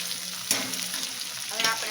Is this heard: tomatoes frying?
yes